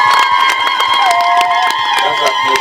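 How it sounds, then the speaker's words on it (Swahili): A large crowd at a Tanzanian government road-project meeting claps and cheers loudly, with whoops and shouts over dense, sustained applause lasting throughout. "Naomba tumpigie makofi mengi"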